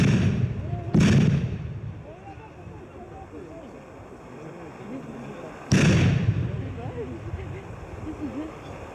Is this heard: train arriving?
no